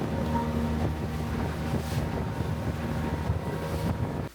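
A small boat speeding back across water in Borneo, its engine droning steadily with heavy wind buffeting the microphone and water rushing past.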